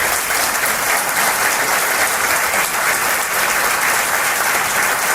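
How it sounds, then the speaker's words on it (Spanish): A crowd gives a speaker a sustained round of applause, with dense, steady clapping that runs unbroken for the full stretch. "Juan, os pido un aplauso para él, este nuevo trabajo."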